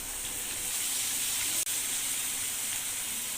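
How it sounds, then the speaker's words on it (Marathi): Onion sizzling in hot oil for an egg masala curry, a steady, close frying hiss that fills the whole moment with a brief dip midway and no talking. "याच तेलामध्ये आता आपण आपले मसाले परतवून घेऊया मध्ये प्रथम कांदा परतवून घेऊया"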